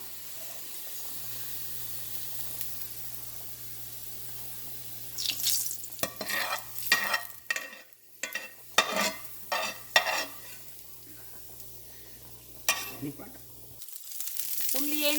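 Tiny prawns fry crisp and golden in a pan, a low sizzle at first, then repeated loud scraping stirs and bursts of hissing oil.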